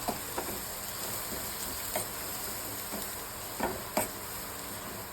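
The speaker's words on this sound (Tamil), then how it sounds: "எல்லாத்தையும் கொஞ்சம் வதக்கணும்." Asafoetida and coriander leaves sauté in a pan with a faint, steady sizzle and a few soft ticks and clinks, as from stirring.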